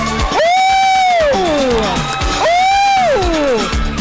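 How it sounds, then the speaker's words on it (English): At a live event, a crowd whoops and cheers in two long, loud rising cries, with clapping and voices blending underneath close to the microphone. "give her a round of applause"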